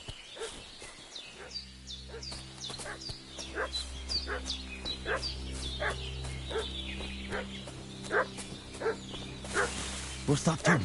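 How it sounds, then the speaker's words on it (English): Dog in a medieval village video game barking and whimpering repeatedly in sharp, rhythmic bursts over a steady low ambient drone, fairly close and persistent throughout. "What's that dog making such a fuss about?"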